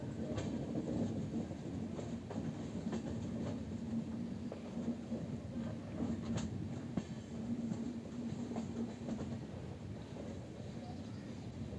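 An Indian passenger train runs along the rails near Vadodara, giving a steady rumbling roll with faint rhythmic clacks and wind buffeting, moderately quiet throughout and without talk.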